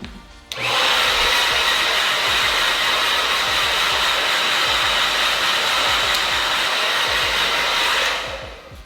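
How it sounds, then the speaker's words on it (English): A hair dryer blows hair that is flipped upside down, switching on abruptly and roaring loud and steady at close range for about seven seconds before cutting off. "So even when I blow dry my hair upside down, which I'll show you this right now, don't do this."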